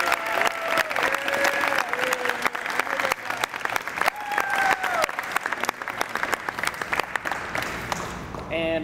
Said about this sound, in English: I guess we can give him a round of applause